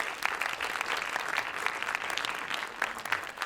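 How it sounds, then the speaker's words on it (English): A crowd applauding steadily at an awards night, dense clapping that holds at an even level throughout without cheering. "give all of the sponsors a big round of applause"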